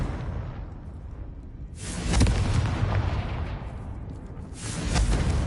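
Confringo spell explosions in Hogwarts Legacy, two loud booming blasts with whooshing bursts rising out of a low rumble, the second near the end.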